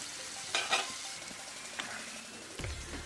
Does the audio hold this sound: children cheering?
no